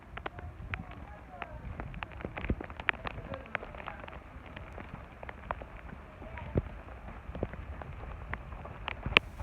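Rain falls at a high lookout point in Italy, with scattered drops tapping sharply close by over a soft, faint patter that continues unevenly throughout.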